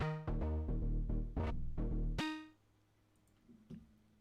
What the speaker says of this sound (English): So it's just playing octave notes, and it's going in between those octave notes.